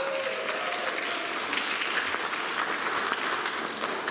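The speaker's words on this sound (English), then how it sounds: "Everyone give Kyle a round of applause" Loud, sustained applause from an audience after a first-time reader finishes at a spoken-word event. Dense clapping fills the whole stretch evenly, with no voices over it.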